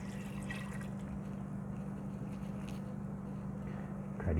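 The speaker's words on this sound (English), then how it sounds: "Then we're going to add the 2 cups of water." Water poured from a cup into an Instant Pot with butternut squash, a steady close trickling wash running through the whole stretch, rising a little at the end.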